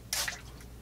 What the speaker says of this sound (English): I'm just going to use a spray bottle with some water and just dampen it a little bit